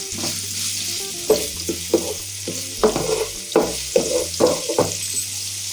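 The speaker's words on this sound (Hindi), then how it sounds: "और चमचे को हिलाएंगे हम अच्छे से।" Ginger garlic paste sizzles in hot oil in a pan over a low flame while a spoon stirs it. The frying hiss runs steadily and a series of sharp scraping stirs repeat close by, with no talk.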